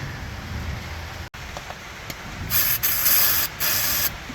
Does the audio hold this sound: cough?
no